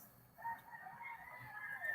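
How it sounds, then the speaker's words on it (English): Chickens cluck and a rooster crows in a Philippine yard, a faint, steady run of bird calls rising and falling over two seconds with no talk. "Sorry for the noise of the chickens."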